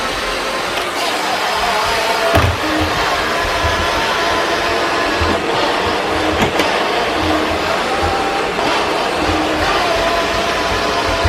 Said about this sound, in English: I'll bring the vacuum cleaner over, and we'll see how well it does.